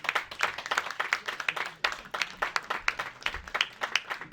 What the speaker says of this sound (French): je vous demande de faire un tonnerre d'applaudissements